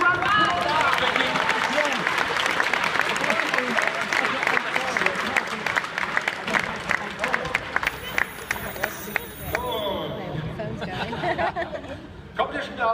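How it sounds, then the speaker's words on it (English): A crowd at Gadget Show Live applauds for Vicky in a steady spell of clapping and chatter, with voices and laughter running through the noise. "Give a round of applause,"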